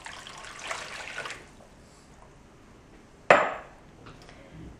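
Water poured into a bowl for artisan bread dough, a soft steady rush for about a second, then quiet, then a sharp, louder splash or knock that fades away.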